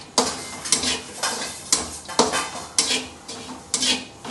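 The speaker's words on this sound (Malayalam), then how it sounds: "നല്ലോണം പൊരിയണം തേങ്ങ, എന്നാലേ നല്ല രസം ഉണ്ടാവും ഉണ്ടാക്കിയാൽ" Grated coconut roasts in a pan for ariyunda, stirred with rhythmic scraping strokes, about eight in a row, each a close metallic swish over a faint dry sizzle.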